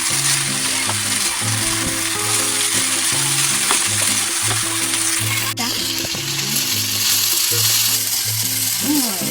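Rice and mixed vegetables stir-fry in a hot pan, a steady loud sizzle running throughout with scraping and stirring clatter of the utensil, close and unbroken.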